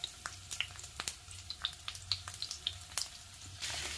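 Mackerel frying in hot coconut oil with curry leaves, a steady low sizzle broken by frequent sharp pops and spits from the pan, close and fairly quiet, with no talking.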